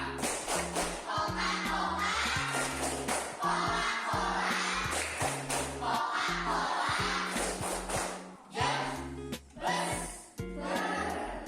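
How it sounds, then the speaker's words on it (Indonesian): A multigrade primary class of fourth and fifth graders performs the Coca-Cola clap chant together, with rhythmic bursts of group clapping woven through loud, close chanting voices for most of the stretch. "1, 2, 3, tepuk Coca-Cola"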